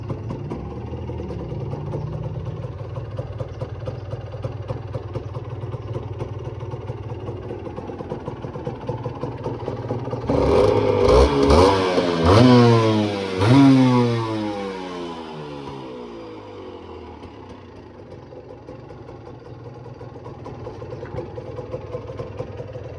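A Honda NSR 125 two-stroke motorcycle engine idles steadily, then revs hard twice in the middle before settling back to a buzzy idle.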